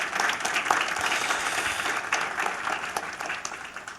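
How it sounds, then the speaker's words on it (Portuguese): An audience at the Vida e Missão ten-year celebration claps steadily, a sustained, fairly soft wash of many hands with occasional sharper individual claps standing out. "E eu te convido a uma salva de palmas pelo Vida e Missão"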